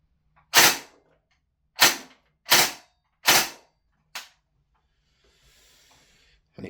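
Single shots from a VFC M249 gas blowback airsoft gun, UK spec, firing 0.3 gram BBs through a chronograph: five sharp, loud, close cracks at uneven intervals, then a faint hiss of gas and near silence.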